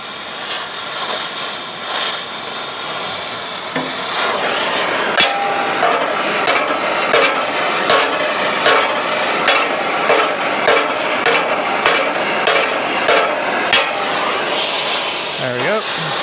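A hammer pounds a cherry-red heated steel dump bed flat, the bed meant for an ambulance conversion. A constant torch-like hiss runs throughout, and after a few seconds a close, loud series of about a dozen sharp metallic blows lands in a steady rhythm.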